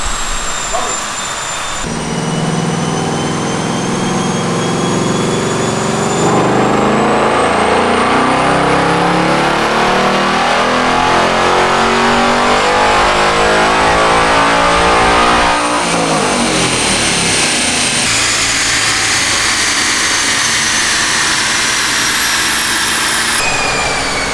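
Ford Mustang Dark Horse S650 with a six-speed manual, run in fifth gear on a dyno: a loud, sustained engine roar climbing steadily in pitch, then dropping off and rising again, very close and dominating.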